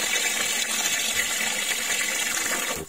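Water gushes steadily into a plastic tank fitted with a float ball valve, a loud, even rush that cuts off abruptly at the end as the valve shuts.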